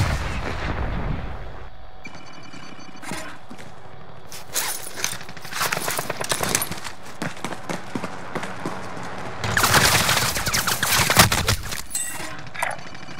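Gunfire in the shooter game Call of Duty Warzone, heard as loud, close bursts of rapid shots in clusters, with dense cracking volleys partway through and near the end, over a low ambient rumble and with no speech.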